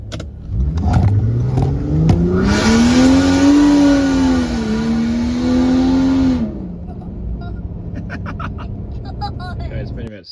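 Car engine turbocharged with a GTX3582R turbo and 44mm external wastegate, revving up to a held, loud drone for several seconds before dropping back to idle, followed by scattered clicks and clatter, close by.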